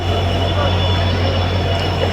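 The 12377 Up Padatik Express from Sealdah arrives at New Jalpaiguri station, platform one. A steady, loud rumble with a low drone fills the whole moment.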